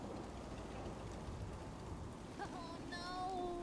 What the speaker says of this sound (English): Oh no! This rain is gonna ruin my notes!